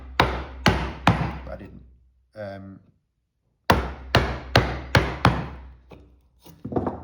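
Mallet blows drive a 1/2 inch chisel while chopping a large mortise in wood, sounding as sharp, close knocks in two bursts of about four to six strikes with a pause between them, and someone briefly speaking.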